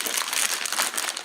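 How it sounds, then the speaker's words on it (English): Thin plastic bag from the packaging of a Corsair Gaming VOID Surround gaming headset crinkles steadily and close up, a dense, continuous rustle with no pauses. "So, this is the bag it came in. Very simple plastic bag"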